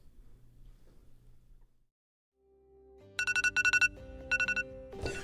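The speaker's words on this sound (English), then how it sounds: "Did you just hack my phone alarm?" A phone alarm rings with a repeating electronic melody, its bursts of bright beeping tones arriving in quick pulsing groups after a short quiet stretch, fairly close and loud.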